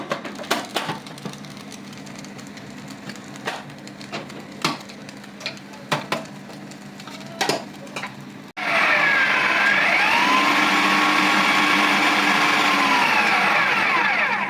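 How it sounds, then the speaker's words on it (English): A kitchen blender whirs steadily at close range as it blends vegetables, its motor roaring loud and continuous after a stretch of scattered clattering and knocks. "It's going here into the blender."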